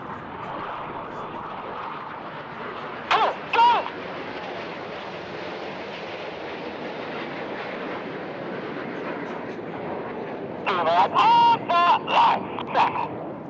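Display jets roar past at a seaside airshow, a broad steady rumble of jet engines filling the air while an announcer talks over a loudspeaker.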